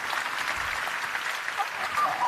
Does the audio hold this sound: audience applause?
yes